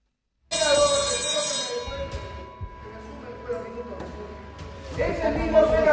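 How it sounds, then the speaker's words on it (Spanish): A bell rings in a legislative chamber with a sustained, ringing tone under the murmur of a crowd and voices, then a second burst of ringing near the end. "Ahí suena la campana."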